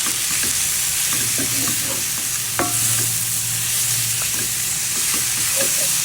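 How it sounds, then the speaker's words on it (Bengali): Shredded cabbage stir-fried Chinese style in a pan keeps up a loud, dense sizzle, broken by a few utensil knocks and scrapes, close and continuous, with no speech. "এক মিনিট দুই মিনিটের মতো নাড়াচাড়া দিয়ে বন্ধ করে দেবো"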